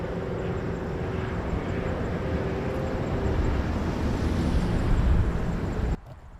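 A Swiss airliner taxis at Montréal-Trudeau airport, its engines producing a steady low rumbling roar that builds slightly over several seconds before cutting off abruptly, heard from a distance without talk.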